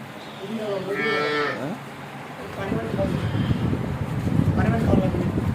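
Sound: young cow mooing

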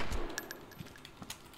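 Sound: gunshot in video game DayZ

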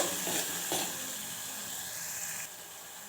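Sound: green chillies and turmeric sizzling and stirred in oil

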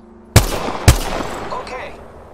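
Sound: gunfire in Apex Legends video game

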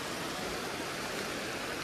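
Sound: river from melting snow flowing in Kashmir

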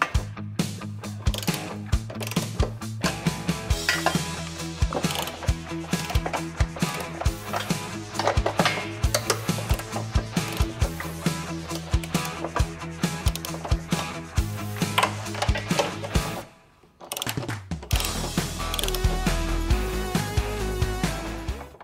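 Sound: removing hitch bolts on a Tesla Model Y, ratchet clicking

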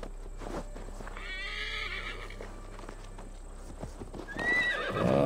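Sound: horse galloping and neighing in a video game

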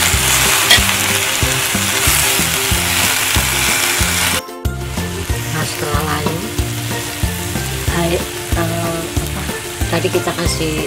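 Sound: stir-frying water spinach (kangkung) in spicy seasoning

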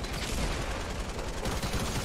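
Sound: gunfire in a video game

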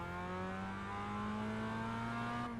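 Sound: race car engine revving during launch in iRacing video game

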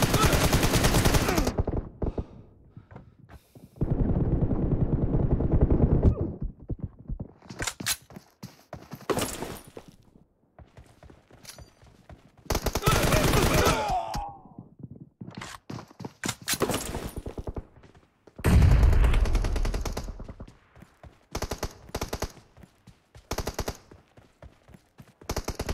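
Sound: gunfire in video game PUBG Mobile

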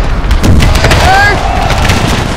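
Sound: troops firing volleys in a Civil War strategy video game

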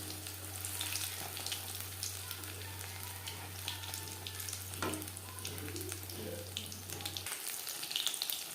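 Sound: fish butter fry frying in oil

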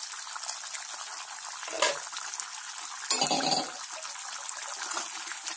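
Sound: fish curry boiling in water

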